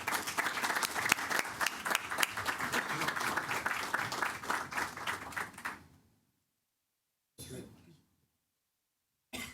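Audience applause welcoming Pakistan's foreign minister at a formal event at the United States Institute of Peace: dense, steady clapping from a crowd for about six seconds, then silence broken by a brief shuffle.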